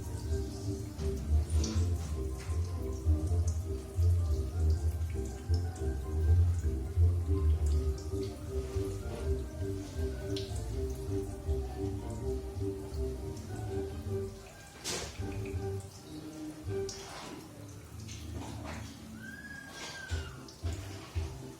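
Water drains and trickles out of a reverse osmosis membrane being cleaned, a continuous low gurgling flow with scattered drips and small splashes, fairly close and steady throughout with a few sharper knocks.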